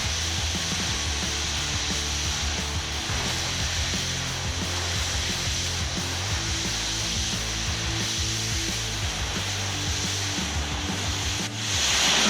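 An oxy-fuel cutting torch flame roars steadily with the oxygen turned up while washing away a weld, a continuous loud hiss and rush with slight wavering in intensity.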